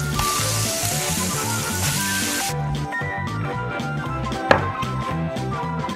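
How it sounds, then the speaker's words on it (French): Meatballs for burgers frying in a pan: a dense, bright sizzle that drops abruptly partway to a softer crackle, with a single sharp tap near the end, close and steady, no talking. "Je fais cuire les boulettes."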